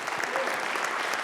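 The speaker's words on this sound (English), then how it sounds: "So give yourself a round of applause." Conference audience clapping at the close of a security talk, a brief burst of dense, even applause from a crowd.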